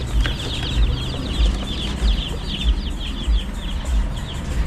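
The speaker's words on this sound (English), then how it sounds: "So those are the chicks that I want to purchase today, the broilers" A box of about forty broiler chicks gives dense, continuous high peeping, many birds chirping at once, with a few low thumps underneath.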